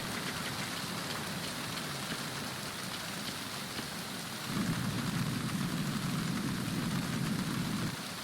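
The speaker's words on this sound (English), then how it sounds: "you can hear the rain thundering off of Snake's thick skull" Steady rain pours in a stormy scene from Metal Gear Solid 2 aboard a tanker, a dense continuous hiss with a deeper rumbling roar joining midway and holding to the end, no voices.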